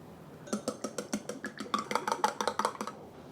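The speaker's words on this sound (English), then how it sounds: "So I'm just gonna beat the eggs." Eggs beaten in a bowl with a utensil, a quick run of about twenty rhythmic clinking taps against the bowl, close and clear, speeding slightly before stopping abruptly.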